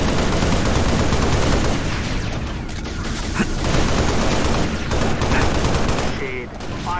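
Halo Reach gunfire crackles in dense, overlapping bursts from several weapons through a loud battle, with brief lulls, faint radio voices and small sci-fi chirps near the end.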